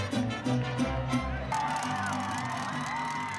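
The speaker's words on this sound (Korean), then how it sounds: "멕시코 대원들의 열정적인 무대에 힘찬 박수를 보내는 동료 대원들." Scouts at the 2023 Saemangeum World Scout Jamboree cheer after a Mexican scouts' performance, with a loud crowd roar, rhythmic chanting and shouts up close that give way to excited whoops and voices.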